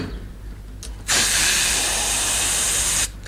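All three doors of a bus open together with a loud pneumatic hiss. The spray of air holds steady for about two seconds, then stops abruptly, with quieter air noise before and after.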